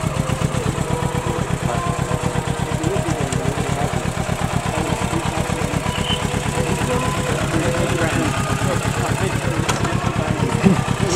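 A Kawasaki Z650 motorcycle with a catalytic converter idles nearby, a loud, steady, rapid low-pitched thrum that stays even throughout, with people talking over it.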